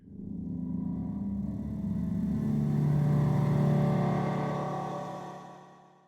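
A warm synthesized pad chord from a sampled PVC pad preset swells in softly, sustains with a low, rich hum, then slowly fades out, alone without any voices.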